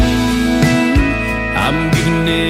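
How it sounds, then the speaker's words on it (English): A new country music recording plays loud and full, with a sung vocal line over steady guitar and band accompaniment, continuous throughout. "New Country sounds like this."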